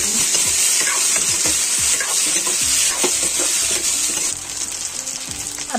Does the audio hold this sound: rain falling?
no